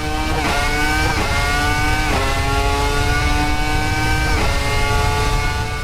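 The Red Bull RB1 V10 engine, revving to 19,000 RPM in Assetto Corsa, screams loudly and continuously at high pitch, climbing through gears with a few sharp upshifts.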